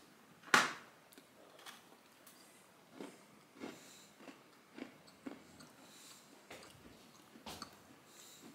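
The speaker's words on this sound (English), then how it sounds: "I'm going to treat myself with a cookie because I worked hard today." A man eats a homemade cookie alone, with a sharp bite near the start followed by a series of soft, close crunchy chewing sounds spaced through a quiet room.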